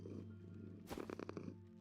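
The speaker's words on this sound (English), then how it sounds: "Just listen at the purring." A cat purrs steadily and softly up close, a low continuous rumble with a brief rustle partway through; no talking.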